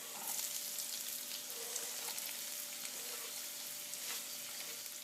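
Finely chopped onion sizzling in hot oil for a Lambi chicken gravy, a steady dense crackle that holds without a break at moderate level, with no talking.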